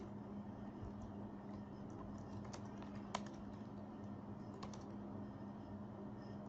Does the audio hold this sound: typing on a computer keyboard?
yes